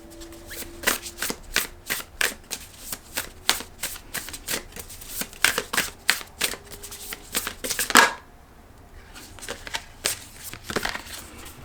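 Tarot cards shuffled by hand in a long run of quick, crisp riffling bursts, close and fairly loud, with a brief pause near the end before the shuffling resumes.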